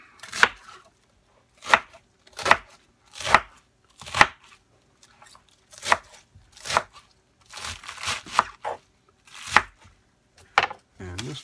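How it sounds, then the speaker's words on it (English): A knife chops through a big chunk of lettuce on a board in about a dozen crisp, crunchy strokes at an uneven, deliberate pace, close and clear, with brief quiet between cuts. "cut it, chop it up just like so"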